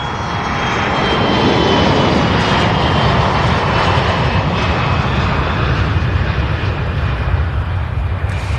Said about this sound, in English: let me get this takeoff here